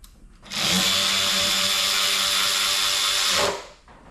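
A power ratchet snugs down valve cover bolts on a PT Cruiser, giving one loud, steady whirring run of about three seconds with a sharp start and stop in a quiet setting.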